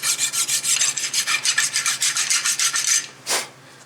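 Rust being scraped off the front brake caliper bracket of a 2014 Toyota Corolla S: loud, close, rapid rasping strokes in a steady rhythm, then a pause and one final harsh scrape.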